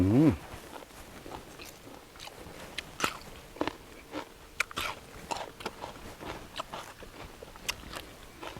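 Crunchy food chewed close to the mic during a Thai meal with sticky rice and a spicy jaew dip, a long run of sharp irregular crunching bites, loud against a quiet background.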